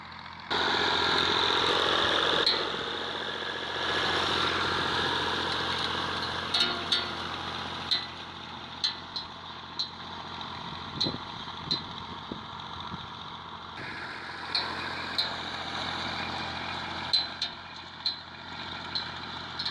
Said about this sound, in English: 135s are such good tractors as well.